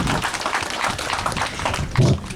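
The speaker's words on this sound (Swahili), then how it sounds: "Vijana makofi." Applause from young people at a burial ceremony, a short burst of crowd clapping mixed with murmuring voices, fairly close and steady.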